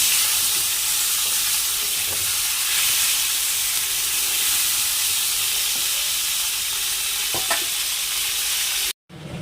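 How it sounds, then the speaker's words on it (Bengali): Potato and cauliflower pieces frying in hot oil, a loud steady sizzle and hiss running throughout with occasional stirring scrapes, ending abruptly. "আলু আর ফুলকপিটা আলুটা দিয়ে একবারে ভাজা হয়ে"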